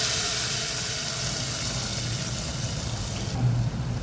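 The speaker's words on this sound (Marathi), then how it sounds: "यामध्ये 1 ग्लासभर गरम पाणी घालून हे पातळ असं वरण तयार करून घेऊ" Hot water is poured into cooked, tempered dal, a continuous gushing pour with a bubbling hiss up close, easing slightly near the end.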